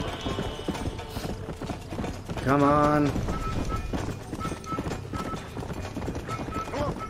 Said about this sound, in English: And I keep spurring my horse to death.